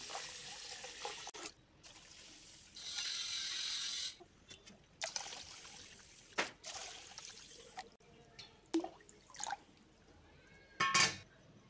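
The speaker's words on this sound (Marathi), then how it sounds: "पुन्हा आपण त्यामध्ये पाणी टाकून घेऊया" Water runs and splashes in short, quiet bursts into soaking finger millet (ragi) grains being washed at home, with drips and pauses between pours.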